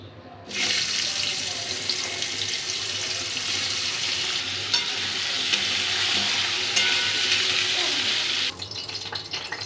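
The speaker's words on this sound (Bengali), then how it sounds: "আলুটা লাল লাল করে ভেজে নিয়েছি" Potatoes frying in oil left over from frying fish, a dense, loud hissing sizzle that begins abruptly, holds steady for several seconds, then cuts back to a quieter background.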